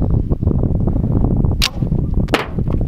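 A 50 BMG round rigged to an arrow goes off as one sharp, loud crack. A second short burst follows moments later over a loud, steady rumbling background.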